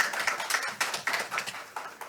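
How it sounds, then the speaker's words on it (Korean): Audience applause at a knowledge-service industry conference, greeting a keynote speaker as they take the stage: steady, dense clapping from a crowd, moderately loud and continuous over a couple of seconds with no voices. "따뜻한 박수로 맞이해 주시기 바랍니다."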